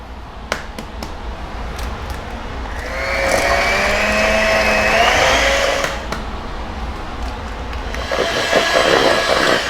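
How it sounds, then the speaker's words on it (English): Electric mixer beating eggs into creamed butter and sugar for lemon blondies, a steady loud whirring hum that rises in the middle and continues throughout, with a few sharp clicks at the start. "I'll drop an egg, I'll give it a mix, drop an egg, give it a mix."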